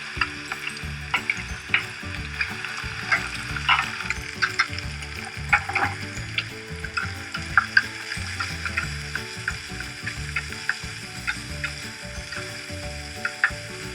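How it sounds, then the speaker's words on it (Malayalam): Onion and curry leaves sauté in a hot pan, giving a steady close sizzle broken by frequent clicks and scrapes of stirring throughout, with no talking. "സവാളയും കറിവേപ്പിലയും ഇട്ടിട്ട് ഒന്ന് നന്നായിട്ട് വഴറ്റി തുടങ്ങണം."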